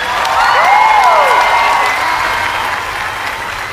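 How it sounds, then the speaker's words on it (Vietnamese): Applause and cheering from a Vietnamese television show audience for comedian Hoài Linh, loud and sustained throughout, with a whistle or shout rising above the dense clapping early on before the noise eases slightly. "Một tràng pháo tay cho nghệ sĩ Hoài Linh thưa quý vị."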